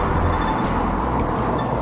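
A car speeds past close by on a road beside someone walking the Ridgeway, a loud continuous roar of engine and tyre noise with wind buffeting.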